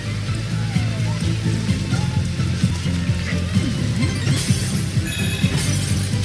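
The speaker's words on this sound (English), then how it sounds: "Heavy rain." Steady heavy rain in the video game Astro's Playroom pours in a constant wash, with low rumbling and occasional sharp crashes and splashes layered over it.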